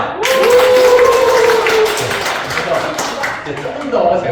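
A seminar group of teachers bursts into cheering applause, loud and close, with a sharp swell of clapping and voices at the start that gradually thins out toward the end.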